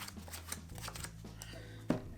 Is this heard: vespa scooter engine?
no